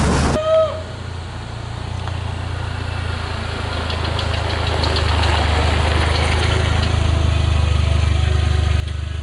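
Rebuilt engine of a Jeep Wrangler TJ on a test drive, a steady low rumble with road and wind noise building over the stretch, no talking.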